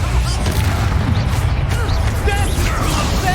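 A Bombarda spell blast in Hogwarts Legacy goes off amid combat, loud booming bursts and crashing impacts layered over continuous battle noise and shouted voices.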